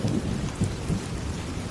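Steady heavy rain pours over a tin roof on a dirt roadside shelter at night, with low thunder rumbles swelling and fading beneath a continuous wash of noise, no voices.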